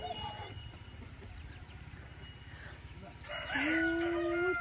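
A rooster crows loudly and close by near the end, after several seconds of quieter background with soft clucking from hens in a Turkish village garden.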